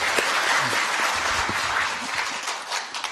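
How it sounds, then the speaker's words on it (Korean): Audience applause at a political panel discussion, a dense, steady wash of clapping from a crowd that holds for several seconds and tapers slightly at the end. "여러분 박수 주십시오."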